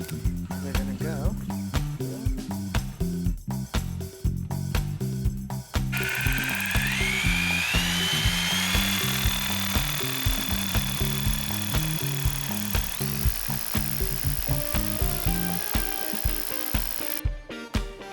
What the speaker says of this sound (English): you can see that we drilled the hole now